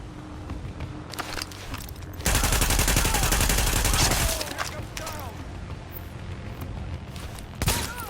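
Gunfire in the video game The Division, with a long, dense burst of rapid automatic shots, loud and close, then scattered single shots and impacts set against a low ambient battle rumble.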